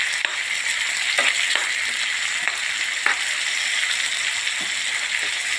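Onion-tomato gravy fries in a pan with a steady, dense sizzle. Faint stirring scrapes and small pops sit on top of the sizzle, and no one talks.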